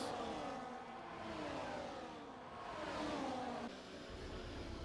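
In a racing video game, race cars run three wide down the pit straight of the Chinese GP, a blended whirring engine drone that swells and fades as the pack passes, fairly faint and steady with no talk.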